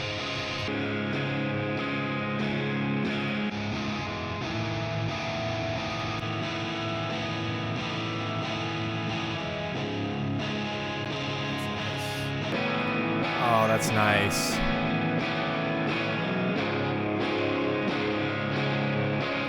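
Layered modern electric guitar tone built in Bias FX 2 software, a heavily distorted riff with effects, sustained and dense throughout, with a brief remark from a voice near the end.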